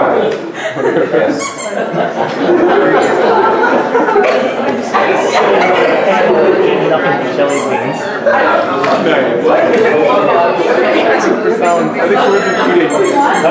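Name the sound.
people imitating animal sounds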